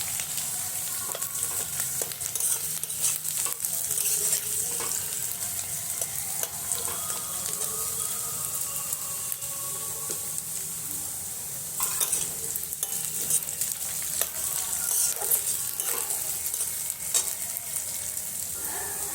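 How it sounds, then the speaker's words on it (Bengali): Lentils (dal) fry in a pan for khichuri while a utensil stirs them, giving a steady close sizzle with repeated scraping strokes throughout and no talking. "মানে ডালটা ভাজা হয়ে আসছে,"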